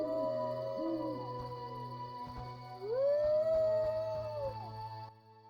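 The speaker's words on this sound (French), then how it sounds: "Je jurerais que ce chien cherche quelque chose." A dog howls in The Witcher video game: two long, wavering howls rise and fall, the second stronger, over a steady bed of game music and ambience.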